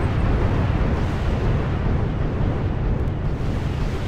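Havoc attack helicopters launch ATGM missiles in Wargame: European Escalation, a sustained, loud, roaring rush of rocket blasts and explosions with no letup and no talking.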